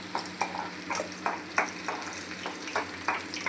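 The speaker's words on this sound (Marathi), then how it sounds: "लसूण चांगला असं आपल्याला तळून द्यायचं आहे तेलावरती।" Garlic frying in hot oil while being stirred, a close continuous sizzle broken by regular scraping strokes of a spatula about every half second.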